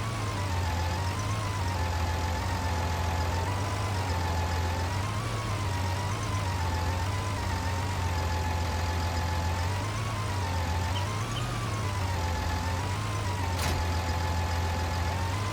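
Big tractor engine in Farming Simulator 19 idling steadily, a deep continuous low rumble with slight periodic wavering, loud and constant throughout with no talk.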